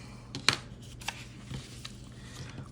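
Quiet snips and paper rustles come from scissors fussy cutting a flower out of a book page, with one crisp cut standing out near the start and a few softer snips following over low room hum.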